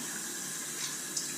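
Cold water runs from a tap in a steady, even hiss that stays close and constant throughout, with no voices.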